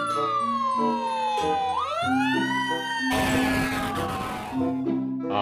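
A toy fire truck's electronic siren wails in rising and falling sweeps over a backing tune, loud and close, ending in a burst of noisy crackle.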